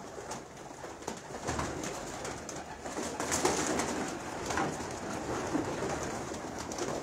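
Ferozpuri pigeons coo softly and repeatedly amid a busy, noisy outdoor background, with a low rumble and fluttering sounds throughout.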